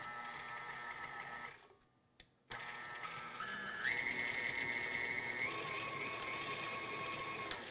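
Electric mixer whirring steadily at low speed through pound cake batter, cutting out briefly before resuming with a slightly higher, steady motor whine; no talking.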